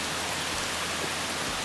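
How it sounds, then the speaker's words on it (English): Rain falls steadily at a Blue Ridge Mountain campsite, a dense, even hiss of drops with nothing else standing out and no voices. "It's just hard to show you because of all of this rain."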